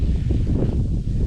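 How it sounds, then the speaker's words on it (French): Strong wind on a mountainside near a high pass during a multi-day ski tour, a steady loud low roar buffeting the microphone with gusty swells, no voices. "Puis il y a beaucoup de vent."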